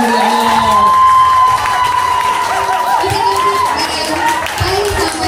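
An audience at a live Ramadan event for a hospital in Temanggung cheers and shouts, with children's voices prominent, in a loud, continuous wash of crowd noise, with some light clapping buried beneath.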